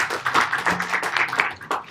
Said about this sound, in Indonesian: Amin, berdoa selesai, kita tepuk tangan.